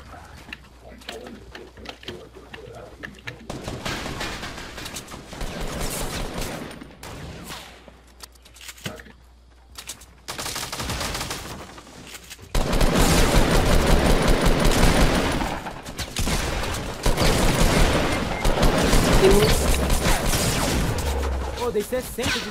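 Rapid bursts of gunfire in the video game Fortnite crackle in repeated volleys, some loud and dense, with pauses between, while players talk over the action.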